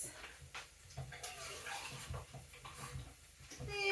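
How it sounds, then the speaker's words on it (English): Water running from a tap into an empty tin of chopped tomatoes during home cooking, a faint irregular splashing and trickling with small clinks, rising slightly toward the end. "I'm going to refill one of these with water just to rinse out all the goodness"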